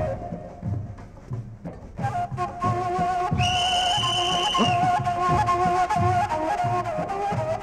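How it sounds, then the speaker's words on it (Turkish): A whistle is blown in a single shrill, sustained blast lasting about a second, clearly audible over steady rhythmic background music in an indoor scene. "Düdük çalmasana."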